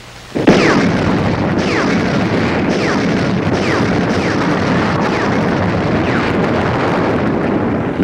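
Russian artillery barrage opening the WWII encirclement at Stalingrad in November 1942, a sudden loud blast followed by a continuous dense roar of heavy firing with repeated bursts layered throughout.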